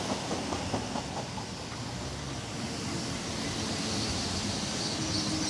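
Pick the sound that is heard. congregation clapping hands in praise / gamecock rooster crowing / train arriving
train arriving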